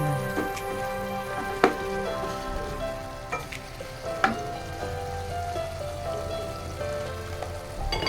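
Chicken pieces sauté and sizzle in a pan for chicken curry, a steady crackling fry with a few sharp utensil clinks over it, moderately quiet and close.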